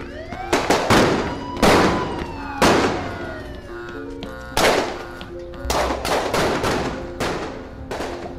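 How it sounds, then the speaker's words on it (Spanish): Repeated sharp gunshot cracks ring out nearby in an urban scene, loud broadband bangs arriving in irregular bursts over several seconds, each followed by ringing echoes, with a faint siren-like tone running beneath. "Oye, escucho disparos."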